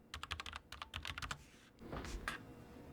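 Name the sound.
typing on Logitech MX Mechanical Mini keyboard, brown switches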